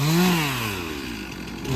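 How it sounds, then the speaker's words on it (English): A Stihl 362 chainsaw running at the roadside along US 4, a loud, close engine whine that rises and then eases off over a couple of seconds, heard alone. "That's why I got that chainsaw."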